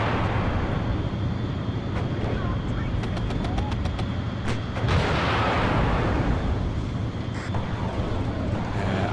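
Gunfire from a Cold War–era battle in the real-time strategy game WARNO, with a cluster of sharp, cracking shots near the middle over a dense, continuous rumble of distant battlefield noise.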